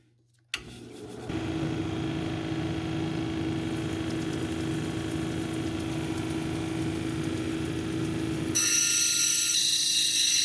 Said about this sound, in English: I'll grind it down to the line